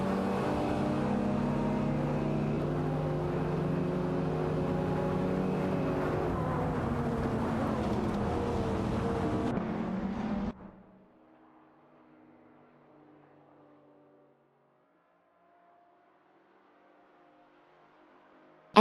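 Several race cars in a racing video game roar together with layered, rising engine notes, loud and steady for about ten seconds, then cut abruptly to near silence with a faint lingering drone.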